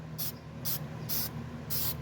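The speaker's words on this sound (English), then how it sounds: "I'm just gonna go ahead and spray this with CRC" CRC aerosol sprayed onto a car wheel hub on a Nissan Sentra, four short hissing bursts about half a second each with brief pauses between, close and fairly clear over quiet garage background.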